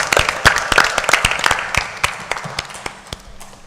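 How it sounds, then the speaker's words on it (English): A round of applause from a small group at a school board meeting, sharp individual claps standing out over a softer wash, fading toward the end. "I'll ask the board to join me in a round of applause"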